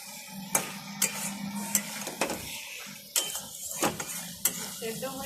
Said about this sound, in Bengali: এদিকে সয়াবিনটা হচ্ছে, এটা একটু নেড়ে দিই।